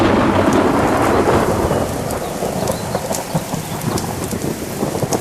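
Heavy rain pours steadily with thunder rumbling through it, loud and continuous, the downpour hissing with scattered drop impacts throughout.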